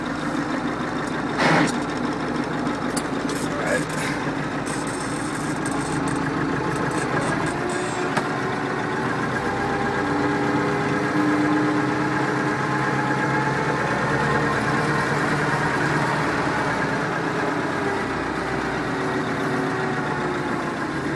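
A Massey Ferguson MF 590 tractor engine idles steadily, a continuous low rumble with a faint knocking rhythm, close by and unbroken, with no voices.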